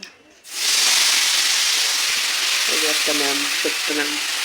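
Potatoes and onion stalks frying in a pan give off a loud, steady sizzle that starts abruptly and hisses on without a break, with a voice talking briefly near the end.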